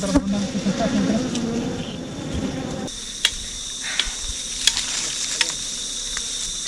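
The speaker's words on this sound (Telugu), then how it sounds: "ఈగలు స్టార్ట్ అయినాయి బయటకు రావడానికి" A dense, continuous hum of many honey bees swarming out of a hive in a dense forest close by, with scattered clicks and knocks near the hive.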